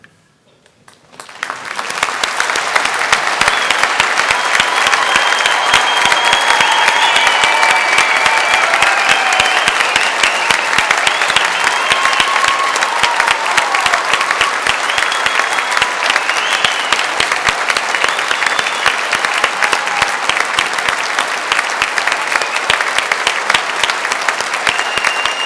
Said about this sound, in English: join me in giving you the biggest round of applause that you've had today